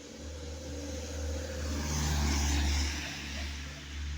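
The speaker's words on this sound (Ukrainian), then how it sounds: "машина проїхала, продовжую" A car passes by outdoors in rural northern Sumy region, its engine rumble swelling steadily to a peak midway and fading again, with light background noise and no talk.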